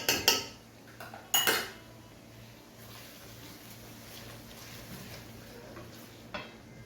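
A metal lid goes onto a cooking pot over low heat, two sharp clanks in the first seconds followed by a quiet steady simmer and a faint later clink, near and unaccompanied by speech.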